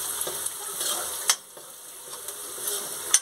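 Onions frying in a pan with red chili and turmeric, a soft continuous sizzle broken by scraping spoon strokes and light clinks as the mixture is stirred, close and moderately quiet.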